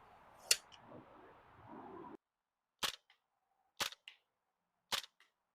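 Telescoping stock on an airsoft SCW9 gas blowback gun sliding and collapsing, a close metallic clack followed by several more sharp, evenly spaced clicks as it locks, otherwise quiet.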